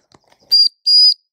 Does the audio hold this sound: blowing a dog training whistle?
yes